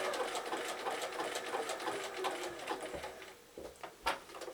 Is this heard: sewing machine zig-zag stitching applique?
yes